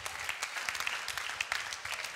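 A church congregation claps together during a sermon, a steady patter of hand claps heard faintly and from a distance, without speech.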